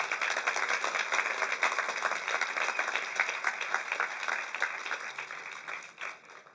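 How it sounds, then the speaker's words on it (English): Audience at a Florissant Veteran of the Year ceremony applauding veteran Ron Finck and his family, sustained even clapping that fades toward the end. "Can we have one more real good round of applause for Ron Finck and his family?"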